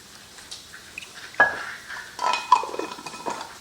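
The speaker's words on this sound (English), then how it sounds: "This is called a Danish whisk." A Danish whisk stirring pumpkin pie filling of heavy cream, milk, starch and pumpkin pie spice in a bowl, giving irregular scraping and clinking strokes that grow busier partway through, close and fairly loud.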